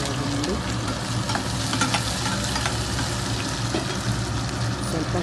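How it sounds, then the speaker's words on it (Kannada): Chopped onion sizzles and fries in a hot pan, a steady, dense crackle running throughout at close range with faint stirring scrapes. "ಈರುಳ್ಳಿ ಹಾಕ್ತಾಯಿದ್ದೀನಿ"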